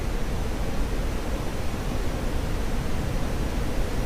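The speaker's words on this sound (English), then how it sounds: "I want to hear linear wind noise." Steady, broadband cockpit wind rush inside a C-101CC Aviojet jet trainer in the DCS flight simulator, dense and unbroken at an even level throughout.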